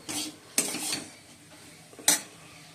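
A spoon scrapes and clatters against a pan while puffed rice mixed with jaggery is stirred, coming in a few sharp, separate bursts with quiet gaps between them.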